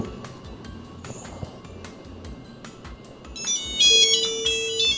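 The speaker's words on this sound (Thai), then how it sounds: "เสียงเรียกเข้าสมัยนั้นก็จะเป็นประมาณนี้" A 1990s mobile phone rings with an incoming call. After a stretch of low background noise and clicks, a bright electronic melody of beeping tones starts in the last seconds, loud and close.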